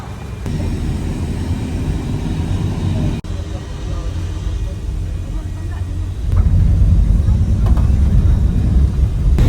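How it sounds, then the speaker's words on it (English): Steady low engine rumble and road noise from the back seat of an air-conditioned bus driving from the pier to a hotel in Boracay, Philippines, loud and continuous with a jolt partway through and a louder stretch near the end. "Riding in the back of the bus, headed to the hotel."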